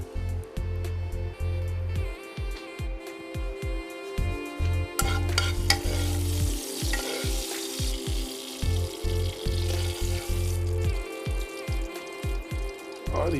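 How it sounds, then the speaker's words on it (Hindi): Red chilli is stirred into a hot tempering of spices for curd, with the induction cooktop just switched off: a steady close sizzle and frying hiss with scraping stirs throughout, no talking. "इसमें डालते हैं थोड़ी सी लाल मिर्च फॉर रंग।"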